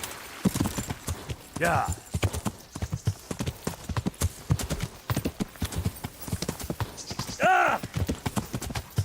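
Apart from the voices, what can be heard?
horse galloping in a video game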